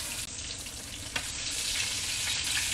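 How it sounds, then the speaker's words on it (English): Eggplant slices fry in oil in a pan, giving a steady, dense hiss of sizzling at moderate level with no voices. "If you wanna cut your eggplant a little thicker, of course, you cook it a little longer on the pan."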